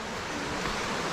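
A river flows nearby, a dense, steady rushing wash of water that stays loud and unbroken throughout, with no talking.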